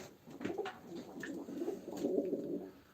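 Soft, low cooing of pigeons at a live auction, several birds overlapping in a steady murmur at moderate distance.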